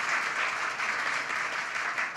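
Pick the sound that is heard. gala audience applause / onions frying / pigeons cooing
gala audience applause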